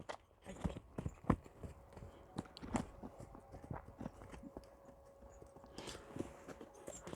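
A seven-year-old Russian-breed bay horse walks nearby, its hooves clip-clopping in an uneven, steady rhythm, fairly faint and with no talk over them.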